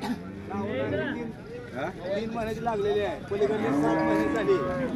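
Cattle at a livestock market: several cows moo in long, wavering calls, one after another and overlapping, close by and fairly loud, with people talking in the background throughout.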